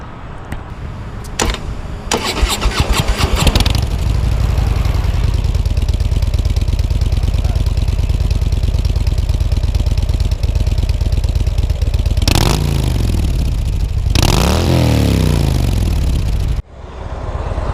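A 2015 Harley-Davidson Street Bob starts after a few clicks and then settles into a loud, close, steady rumbling idle that runs for most of the stretch, with a few revs near the end before cutting off abruptly.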